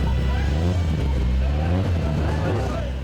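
Jimmy McRae's Vauxhall Firenze Can-Am rally car at the 2017 Killarney Historic Rally in Ireland runs loud and close. The engine gives a continuous throaty roar with rising revs, and a voice talks over it.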